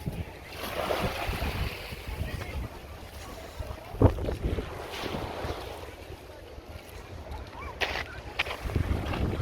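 Wind buffets the microphone over a steady engine drone and rushing water as a boat crosses the sea from Ibiza to Formentera, with occasional thumps from the hull.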